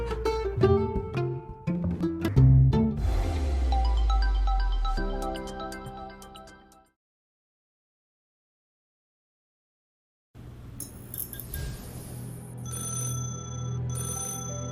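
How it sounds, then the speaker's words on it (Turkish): An old telephone rings with sharp, repeated electronic-sounding bell tones that start after a stretch of silence following music, and continue fairly loud to the end. "Eski telefon."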